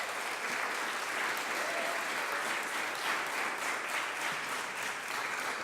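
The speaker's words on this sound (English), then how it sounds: "give Marquise a round of applause, everybody." An audience at a mayor's press conference for restorative justice graduates gives sustained applause, an even, dense wash of clapping heard at moderate loudness throughout.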